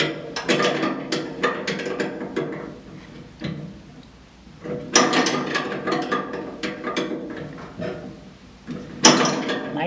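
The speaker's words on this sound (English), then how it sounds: "I'm going to finish tightening up this fitting on the master cylinder." Wrenches tighten a brake line fitting on the master cylinder of a GT3 road race car chassis, making sharp metallic clicks and clanks in three clustered bursts with quieter pauses between them, close by.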